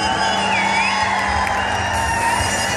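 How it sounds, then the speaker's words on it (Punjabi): Crowd at a live Baisakhi concert in Muscat, Oman, cheering and whooping in a steady, loud wash of voices, with a sustained tone running beneath the noise. "ਤੁਹਾਡੇ ਵਾਸਤੇ ਮੇਰੇ ਵੱਲੋਂ ਤਾੜੀ ਹੈ"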